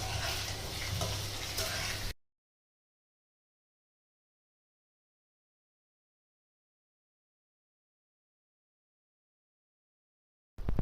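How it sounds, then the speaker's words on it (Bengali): Potatoes frying in a pan give a close, hissing sizzle for about two seconds, then the sound cuts to near silence before a faint return at the very end. "প্রথমে আলুটাকে ভাজছি"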